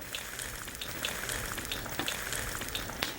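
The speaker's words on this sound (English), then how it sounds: "when you're deep frying curd is don't touch it while it's in the ghee until it starts to rise to the surface" Curd is deep-frying in ghee, making a dense, continuous sizzle and crackle with scattered sharper pops, steady and close throughout.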